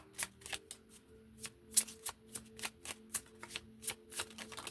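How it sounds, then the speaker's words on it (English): Tarot cards being shuffled by hand, a quick run of crisp riffling flicks and slaps in an uneven rhythm, close and clear with no talking. "I'm going to pull one of these. Let's see. This will be the last card I pull."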